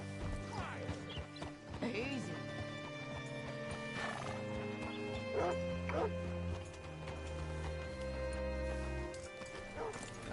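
Horse hooves clip-clop with a whinny in Red Dead Redemption 2, under a steady game music bed, with someone speaking briefly nearby.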